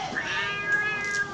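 A cat yowls in a drawn-out, tense caterwaul during a cat fight, one continuous strained cry up close.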